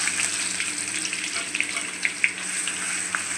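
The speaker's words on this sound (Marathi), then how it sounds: "आता आपण लसूण घालून घेऊया।" Garlic fries in hot oil seasoned with mustard and cumin seeds, a close, steady sizzle with soft crackles and small pops scattered throughout.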